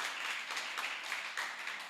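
A church congregation claps together during a worship service, a soft, slightly uneven patter of many hands heard from a moderate distance for a couple of seconds.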